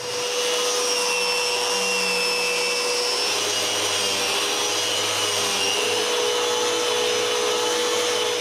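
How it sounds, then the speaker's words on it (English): A Rotex sander works pine panels in aggressive mode, giving a continuous, even whirring hum with a steady abrasive hiss that holds at close range from start to finish. "I always begin the sanding in aggressive Rotex mode"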